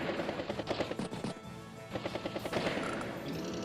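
A battlecopter strafes an infantry unit with machine-gun fire in the turn-based strategy game Advance Wars by Web, bursts of rapid rattling shots in quick succession, close and fairly loud, with a short pause between volleys.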